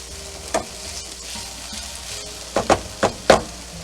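Chopped onions sizzle steadily in a hot pan for Moroccan couscous with smoked sausage, and a few loud utensil scrapes and stirring knocks come through near the end.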